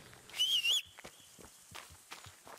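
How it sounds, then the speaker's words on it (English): A short rising two-note whistle in Kingdom Come: Deliverance, bright and near, followed by a scattering of soft footsteps and light thuds. "I'm gonna whistle a bit and see if someone aggroes"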